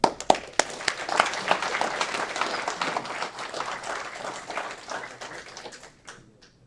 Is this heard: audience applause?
yes